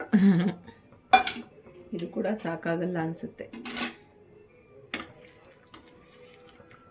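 Bisi bele bath being stirred in a steel pot gives a few sharp clinks and scrapes of a spoon against metal, close and clear, while someone talks over it.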